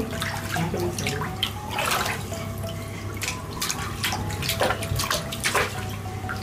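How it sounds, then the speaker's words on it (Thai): A fizzing bath bomb dissolving in a filled bathtub, with small splashes and drips of water popping irregularly over a continuous bubbling wash, fairly close and loud, no voices. "น้ำกระเด็น"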